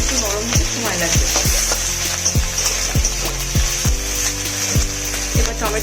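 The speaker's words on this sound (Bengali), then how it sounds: "হালকা গোল্ডেন কালার হয়ে এসছে পেঁয়াজটা, ক্যাপসিকাম কুচিটা দিয়ে দেবো।" Chopped capsicum and onion fry in a pan with a steady, close sizzle, broken by regular scraping strokes from a spoon stirring them every half second or so.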